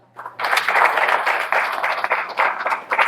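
An audience claps at a spiritual satsang discourse, a burst of dense, fairly loud applause that starts abruptly and continues steadily with uneven swells to the end.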